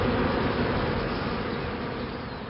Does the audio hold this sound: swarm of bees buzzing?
yes